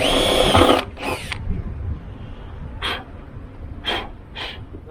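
A power drill boring holes into a Honda Jazz rear spoiler, working slowly: a loud opening burst, then short separate whirring bursts spaced a second or so apart, close up with no talking.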